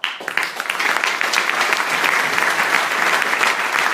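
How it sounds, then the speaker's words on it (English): Loud, dense applause from a makeathon presentation audience for a team, rising quickly after a few scattered opening claps and holding steady throughout. "the last part is a big applause to our team"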